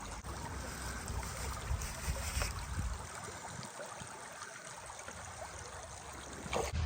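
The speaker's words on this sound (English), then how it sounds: "I'm gonna let this sluice run its course." Water rushes steadily through a gold sluice box outdoors, a continuous close, broadband wash and trickle that stays loud and unbroken throughout, with no talking.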